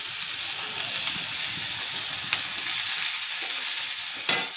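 Onion and garlic fry in hot oil tempered with nigella seeds, chili and mustard seeds, for a fish curry. A loud, steady close-up sizzle hisses throughout, with a sharp stirring clatter near the end and no talk.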